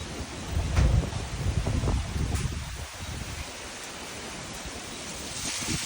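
Strong habagat monsoon wind roars in broad, steady gusts, buffeting the microphone; it swells loudest early on, then settles into a constant rushing noise with no voices.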